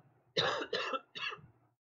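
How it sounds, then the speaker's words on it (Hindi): Three harsh coughs in close succession, loud and near, with a brief throat-clearing quality, then silence. "सॉरी, मुझे खांसी है थोड़ी"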